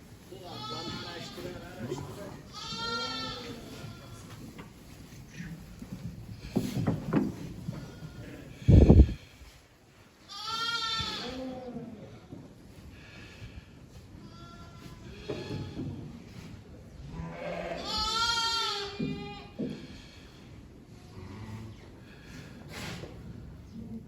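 Lambs and sheep bleat repeatedly on a farm, with several wavering cries near and far, while a person talks and calls to the lambs throughout.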